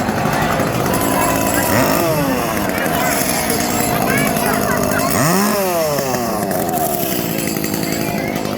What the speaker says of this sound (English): Do you think the chainsaws are working?